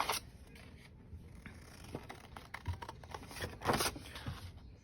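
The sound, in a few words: scissors cutting paper up to the score line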